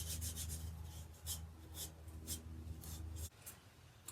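A scrubby pad rubs against the bottom of a pottery piece being readied for the kiln, making a close, dry, rasping scrub in quick repeated strokes with a steady low hum underneath.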